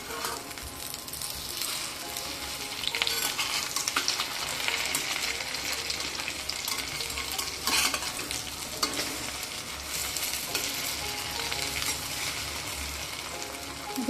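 Crab sticks frying in a pan after being flipped give off a steady, dense sizzle and crackle that stays close and even, with a few brief louder pops and no talking.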